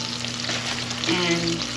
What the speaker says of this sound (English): Put the flats around the border of the frying pan